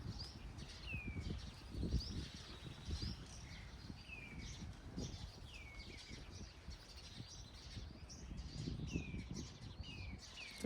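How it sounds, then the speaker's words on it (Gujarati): Sparrows chirp in short, scattered calls against a faint outdoor background, soft and somewhat distant, with no one talking. "ચકલા બોલે છે, વાતું કરે છે."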